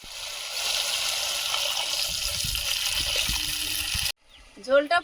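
Snakehead fish curry with added water boils in the pan as a steady, close bubbling hiss. It cuts off near the end, where a short burst of talk follows.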